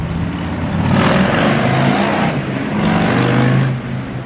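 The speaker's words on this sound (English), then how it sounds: "there's so much traffic going on." Cars rush past nearby in close succession, engines swelling and fading, a steady roar of road traffic with no voices.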